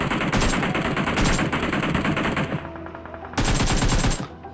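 Sustained automatic gunfire in the mobile battle royale game PUBG Mobile, rapid continuous bursts that pause briefly then resume, loud and close throughout.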